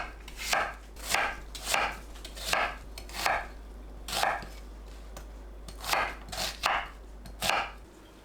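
Knife chopping red chili pepper, apple and onion on a cutting board, about a dozen crisp, evenly spaced thwacks close by, with no talking.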